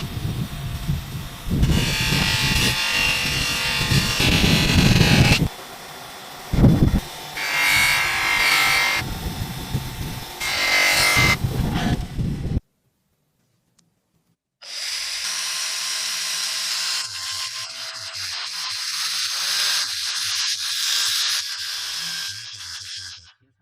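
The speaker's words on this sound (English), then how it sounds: "For safety, the blade is mounted onto a wooden block before polishing." A power polishing tool works a restored chef's knife blade mounted on a wooden block, whirring in loud bursts that start and stop, then falls silent before a steadier, thinner buzzing resumes, close and with no voices.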